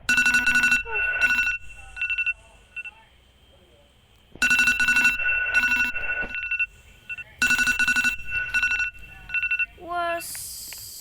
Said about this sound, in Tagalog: May narinig ako iPhone alarm